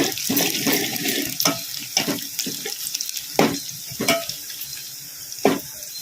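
Green chillies dropped into a pan of frying onions and stirred, making a hissing sizzle punctuated by several sharp scraping strokes of the spoon, close and fairly loud with no voices.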